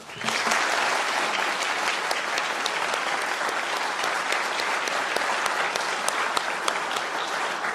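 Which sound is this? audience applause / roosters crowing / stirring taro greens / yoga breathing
audience applause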